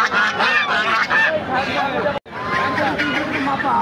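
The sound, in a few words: ducks quacking at a poultry market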